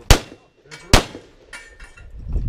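Outdoor shooting with .45 caliber guns: two sharp, loud gunshots about a second apart, each with a ringing clang, followed by fainter rattling and a low rumble.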